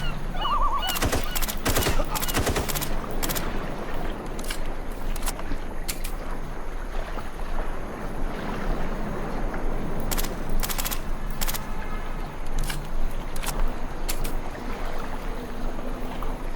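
Silenced SMG fire in the video game IGI 2 comes in rapid muffled bursts over a constant loud ambient background from the island assault mission.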